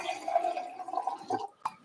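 Water being run or poured, a close gurgling flow with shifting tone that fades out, followed by a single sharp drip or splash.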